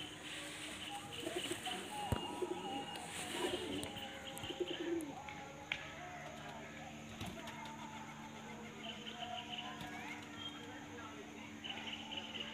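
Pigeons coo softly in the background at a pigeon sale, mixed with chirps, scattered bird calls and low ambient noise throughout.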